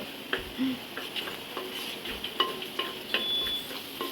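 Onions fry in a pan while a utensil stirs them, giving a steady low sizzle broken by scattered scrapes and light clinks close by. No one talks.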